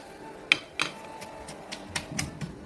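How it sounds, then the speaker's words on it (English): Hand-grinding of a curry spice paste with lemongrass, sliced lime leaves and shrimp paste, heard as a series of sharp knocks and scraping taps at an irregular rhythm, close by and moderately loud, with no talking. "I believe the flavors are released when you grind it by hand"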